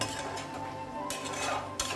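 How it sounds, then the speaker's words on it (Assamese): Chicken and boiled potatoes are stirred over a medium flame in a pan, with a spatula clinking and scraping against the metal and a soft sizzle underneath. The sound is quiet and continuous, and no one speaks. "এইখিনি লৰাই লৰাই মই ভাজি থাকিলোঁ"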